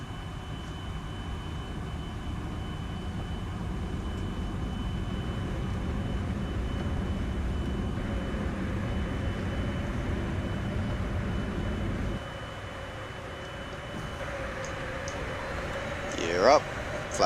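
A Learjet 24B's jet engines spool up in the P3Dv4 flight simulator, a steady broad roar with a rising whine that holds loud and close, then eases slightly as the tone shifts near the end.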